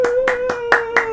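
One person's hands clapping in imitation of a movie theater audience, five sharp evenly spaced claps over a steady tonal hum, close and loud.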